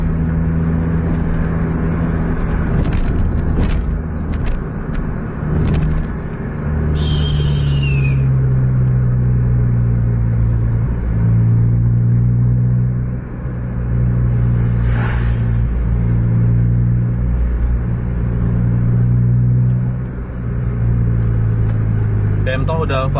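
A bus cruises along a road at a steady 60-70 km/h, its engine a continuous low rumble with shifting drone and occasional higher noise bursts, while someone talks over it.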